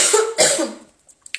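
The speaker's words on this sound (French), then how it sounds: "Pardon, j'avais besoin de tousser, excusez-moi." One sharp, close cough splits into two quick bursts, followed by near silence and a couple of tiny clicks.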